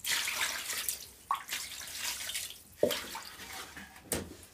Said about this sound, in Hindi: अब इसमें हम पानी डाल के धुलेंगे।